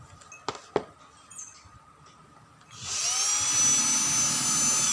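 A few sharp clicks and taps, then a power drill whines up loudly and runs steadily at high pitch until the end, drilling rivet holes in a grass-cutter part.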